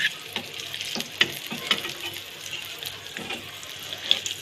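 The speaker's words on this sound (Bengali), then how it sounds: "আর বাকিগুলো ভেজে নিচ্ছি" Chops fry in hot oil with a soft, continuous sizzle, broken by a few light clinks and stirring sounds close by.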